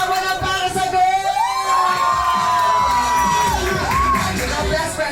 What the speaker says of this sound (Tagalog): Ang sigawan na para sa goal!